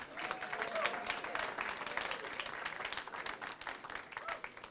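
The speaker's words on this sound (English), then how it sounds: "Let's give Kennedy another round of applause." An audience applauds for Kennedy at an evening speaking event, dense steady clapping with a few whoops and faint voices mixed in, sustained throughout.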